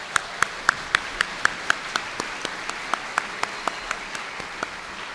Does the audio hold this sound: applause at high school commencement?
yes